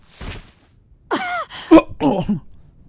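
A coughing sound effect from the Tsukihime visual novel: a faint breathy burst, then a cluster of three rough, close coughs in quick succession.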